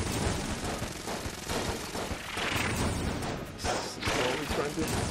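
Explosions in Enter the Gungeon burst in quick succession amid rattling gunfire and crashing impacts, dense and busy throughout, with a voice talking over the chaos.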